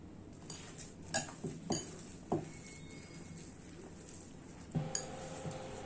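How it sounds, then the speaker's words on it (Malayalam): Bread and vermicelli dough being kneaded by hand in a bowl, with soft, quiet mixing sounds and a few sharp clinks of the bowl scattered through, then one louder knock near the end. "ഇനി നമുക്കെല്ലാം കൂടെ ഒന്ന് മിക്സാക്കി എടുക്കാം നമുക്കിനി കൈ കൊണ്ടൊന്ന് കുഴച്ചെടുക്കാം"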